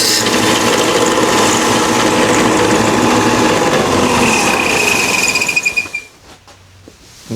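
A power sander grinds steadily on a body part of a Mazda 323 GTX rallycross car, a loud continuous buzzing whir that holds for about six seconds before cutting off, leaving a few faint clicks and a quiet tail.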